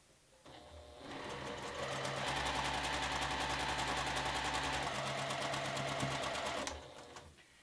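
A sewing machine chain pieces quilt pieces, starting up and running as a loud, close, rapid steady whir of stitches for several seconds before stopping.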